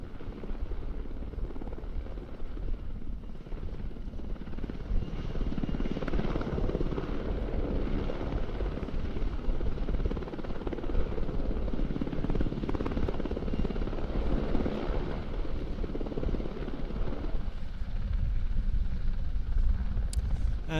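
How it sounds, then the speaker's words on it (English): A rescue helicopter climbs and descends during a hoist demonstration at an airshow in Leszno, its rotor and engine making a continuous rumbling thrum that swells and fades gently over about twenty seconds, moderately distant. "The helicopter climbing and descending, but the winch operator is using the hoist to keep the rescue workers at an exactly level altitude."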